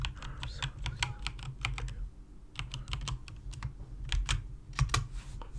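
A password is typed on a computer keyboard while logging into an Ubuntu server, producing quick irregular bursts of close key clicks with a short pause midway.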